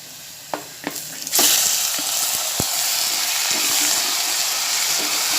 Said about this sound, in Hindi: कीमे को थोड़े टाइम तक प्याज के साथ भूनेंगी।